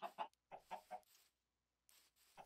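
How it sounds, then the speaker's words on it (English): Minecraft chickens cluck in short, close bursts, a quick run of several clucks, a silent pause, then a few more, with no other sound around them. "Chickens."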